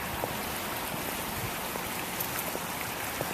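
Continuous rushing water from waterfalls on a farm fills the scene, a dense, steady roar with no pauses, close and fairly loud.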